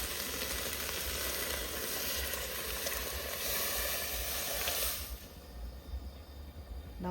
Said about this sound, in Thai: น้ำเดือดแล้วจ้า